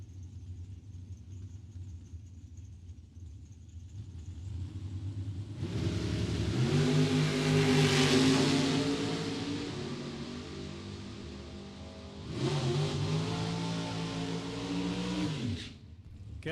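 A '77 Nova and a dragster launching side by side at a drag strip, engines rumbling at idle before two loud roaring bursts of acceleration, the second surging and then cutting off.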